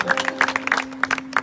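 A church congregation at a house-church convention claps in loose, uneven bursts, individual hand claps standing out close by over a steady electrical hum.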